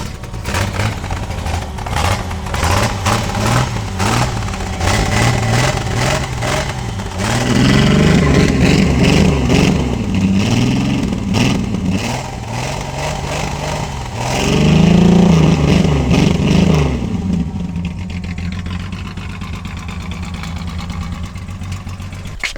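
Old barn-find car engine running, idling rough and then revved twice in strong swells before settling, loud and close outdoors with no talk.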